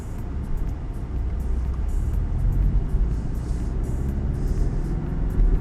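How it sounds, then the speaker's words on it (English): Steady low engine drone and road rumble from inside a 2019 Porsche 718 Cayman GTS with a manual gearbox cruising along, continuous and fairly loud with no voices. "So we're on the go. We are. Driving to Cayman. Surprise, huh? 718 GTS."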